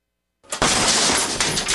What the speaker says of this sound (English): That's the sound of your door being kicked in by an intruder with a single kick.